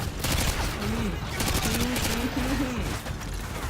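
Rapid bursts of automatic gunfire from a Call of Duty Modern Warfare 2 game session, fairly faint and steady, with a voice talking over the shooting.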